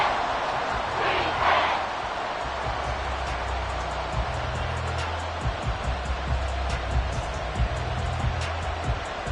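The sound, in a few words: stadium crowd roaring in a football video game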